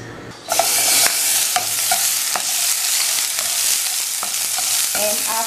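Corn oil sizzling loudly in a pan for tinolang manok, a dense steady frying hiss that starts abruptly and continues throughout with small pops and faint clinks.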